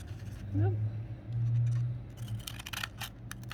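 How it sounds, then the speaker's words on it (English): Scissors cutting paper along dotted lines, several short crisp snips and rustles up close, with a brief low hum early on. "So just cut along the dotted lines."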